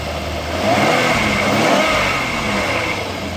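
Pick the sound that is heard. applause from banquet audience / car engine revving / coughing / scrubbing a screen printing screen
car engine revving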